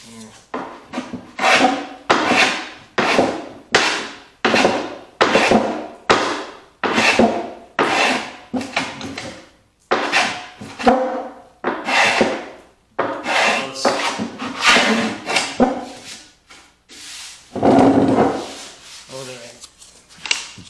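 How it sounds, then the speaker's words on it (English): Hand plane shaving down the corners of a wooden desk, a rhythmic series of close, rasping strokes, each about a second long, repeated steadily with brief pauses and a few scattered knocks. "I'm just gonna plane it down, get it close"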